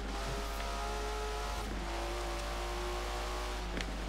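A Renault Clio Williams engine revs in Forza Horizon 4, a steady, loud, buzzing drone with shifting pitch that holds throughout, with a brief dip midway.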